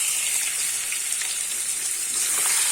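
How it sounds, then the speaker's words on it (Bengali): Prawns coated in salt and turmeric frying in hot oil, a dense, even, close sizzle that holds steady throughout without a break. "ওই তেলেতেই কিন্তু আমি নুন হলুদ মাখানো চিংড়ি মাছটা ভেজে নেব।"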